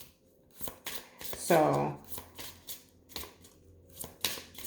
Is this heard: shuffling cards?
yes